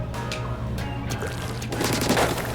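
Rapid gunfire and splattering impacts from a Splatoon match with the Tri-Stringer bow, a dense continuous barrage with crashing hits that grows louder and busier toward the end, over game music.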